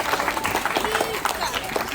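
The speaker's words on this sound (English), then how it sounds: "There you go. Clap for yourselves." An audience claps for itself, a dense, steady patter of many hands close by that fills the whole moment, with voices talking over it.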